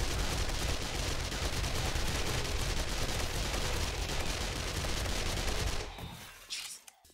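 Sustained rapid automatic gunfire empties a full magazine in 7 Days To Die, a dense loud burst running nearly six seconds before cutting off into quieter game ambience.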